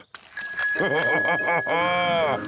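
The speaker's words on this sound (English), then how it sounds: "this is the bell" A cartoon bicycle bell rings repeatedly, bright and close, its metallic tone sustained over wobbling background sounds.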